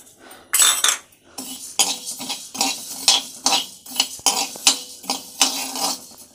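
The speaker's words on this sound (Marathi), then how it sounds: "गॅस पेटवला आहे, कढई तापलेली आहे. आणि बघा आता मी धने टाकून घेते." Coriander seeds are dry roasted in a hot kadhai, stirred in repeated scraping, rattling strokes with a spoon against the metal pan, close and fairly loud.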